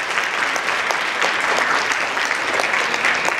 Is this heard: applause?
yes